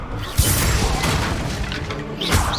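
Confringo blast spell in Hogwarts Legacy: a sharp booming hit early on over a dense rumbling game bed, with a second thump near the end, no speech.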